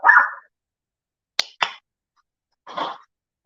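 A few sharp dog barks, one early, then a quick pair, and a last one after a pause, fairly close and with quiet between them.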